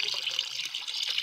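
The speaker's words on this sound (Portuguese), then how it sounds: "Eu despejo esse churume" Compost leachate is poured into a bucket of rainwater, making a continuous splashing trickle of liquid, close and moderately loud, with no voices.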